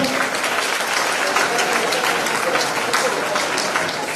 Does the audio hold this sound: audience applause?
yes